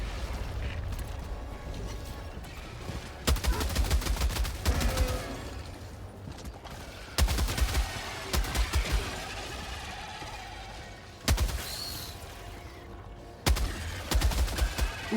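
Heavy machine gun in Helldivers 2 firing in several loud, sustained bursts of rapid shots, separated by pauses filled with rumbling battlefield noise and distant effects.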